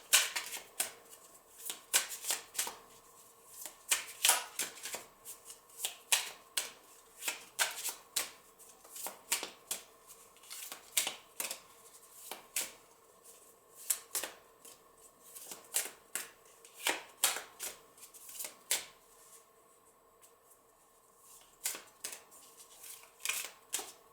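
Tarot cards are shuffled into piles in an ASMR setting, with repeated soft riffles and crisp taps of card against card in an irregular rhythm, close and gentle, and no voice heard.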